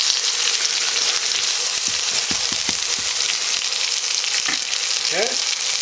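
A chuck roast browns in a pan with a steady, close sizzle and crackle, a few soft knocks around the middle and a short scraping squeak near the end, with no voices.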